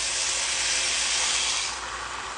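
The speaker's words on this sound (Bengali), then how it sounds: "এখন দিয়ে দিচ্ছি পানি, পানিটা মাপাই ছিল," Measured water poured into a hot frying pan of beef tehari ingredients gives a loud, close, continuous steamy hiss that eases slightly toward the end.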